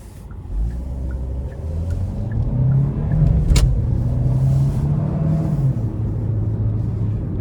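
A 2025 Hyundai Kona Limited with the 1.6-litre turbo engine accelerates to merge onto a highway, a steady rising engine hum over road rumble inside the cabin, with a brief click partway through and no talk.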